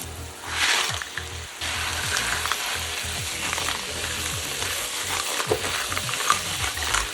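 Clams sizzle and crackle in a hot pan with sauce while stir-fried and tossed, with clinks and scraping under the steady frying hiss.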